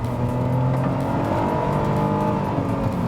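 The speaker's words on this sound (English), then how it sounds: "there's also a nice thrummy offbeat note that you get from that 3-cylinder" Kia Rio GT Line with a 3-cylinder engine accelerating, a steady loud thrumming, offbeat engine note heard from inside the car, holding continuously over a few seconds with road noise beneath.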